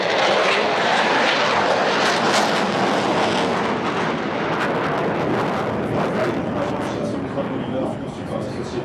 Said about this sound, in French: Rafale de l'armée de l'air, que vous voyez évoluer